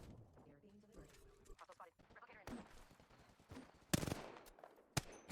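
Video game gunshots crack out sharply, two loud bursts standing out near the end amid quieter in-game sounds, with someone talking over the start.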